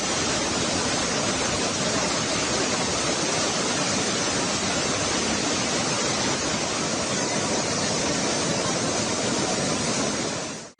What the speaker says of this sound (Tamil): அருவிகளில் கொட்டும் நீர் மலையடிவாரத்தில் அமைந்துள்ள கோவிலுக்குள் புகுந்தது.